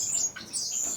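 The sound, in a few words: Cuban grassquit (melodious finch) chirping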